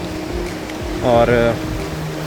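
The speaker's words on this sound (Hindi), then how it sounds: "ये देखिए एक और झरना आपकी खिदमत में हाजिर है" A mountain waterfall beside the Gaurikund to Kedarnath trail gives a steady, close rushing roar that fills the whole clip, and someone speaks briefly over it.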